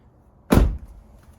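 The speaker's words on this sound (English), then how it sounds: "let's close the door, see how she looks." A 2005–09 S197 Ford Mustang driver's door swings shut with one solid, close thunk that fades quickly, with no talking.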